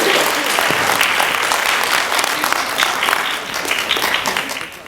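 A crowd at an elementary school literacy competition gives the fourth-grade winners a loud, sustained round of applause that tapers off toward the end, with faint voices mixed in.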